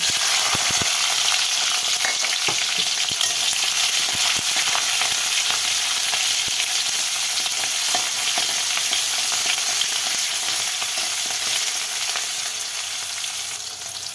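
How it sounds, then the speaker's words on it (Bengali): Dried red chillies and bay leaves fry in hot oil with a loud, continuous crackling sizzle that holds steady and alone throughout. "এখন শুকনো লঙ্কা তেজপাতাগুলো একটু ভাজা করে লাল লাল করে ভাজা করে"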